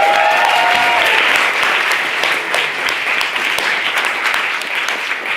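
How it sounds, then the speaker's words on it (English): A debate competition audience claps for the guest chair and judges, a loud, full round of applause that holds steady for several seconds. "can we have a round of applause for our guest chair and our judges?"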